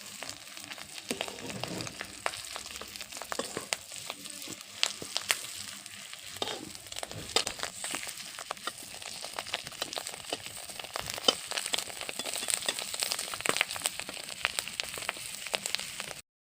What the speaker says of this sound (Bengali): মাছের ডিমের বড়াগুলো ভেজে নিচ্ছি এখন